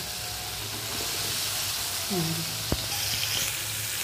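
Tomatoes and bitter gourd cooking in a pan give a steady broadband sizzle throughout, with a brief clink near the middle and faint background hum.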